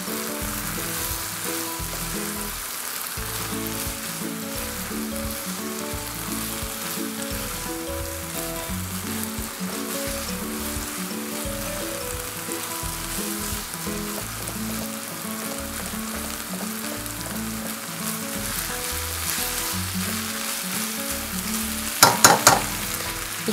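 Moussaka filling with thyme and basil fries in a pan, a loud, steady, rain-like sizzle that runs unbroken, with a few sharp clinks near the end and no voices.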